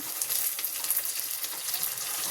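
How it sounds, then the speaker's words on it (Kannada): Mushrooms frying with onions in a pan for a mushroom pulao give off a steady, close, bright sizzle that hisses evenly throughout, with no voices. "ಈರುಳ್ಳಿ ಎಲ್ಲ ಫ್ರೈ ಆದ ನಂತರ ಮಶ್ರೂಮ್ ಹಾಕ್ಕೊಳ್ಳಿ"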